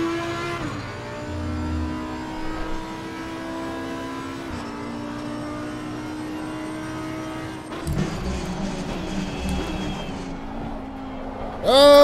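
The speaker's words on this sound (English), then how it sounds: "We picked up the throttle early. Let me get a run on the Lexus." A Lexus race car at Laguna Seca in a racing game sounds as a steady, tonal engine drone holding and shifting pitch, with a brief surge around the middle and a loud burst at the end.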